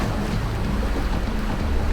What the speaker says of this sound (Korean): 인공 파도가 아니라 진짜 파도